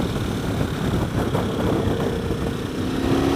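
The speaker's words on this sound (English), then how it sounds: "it's almost like a vibrating electric engine" A 2016 Motus MST motorcycle engine runs steadily while being ridden, giving a dense, continuous vibrating drone close up and loud, with no talking.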